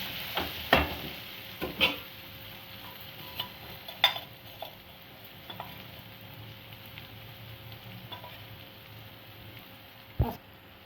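Ginger garlic paste, turmeric and fried onions cooking in oil for a dried fish tamarind curry, with a faint steady sizzle under scattered spoon scrapes and taps against the pan.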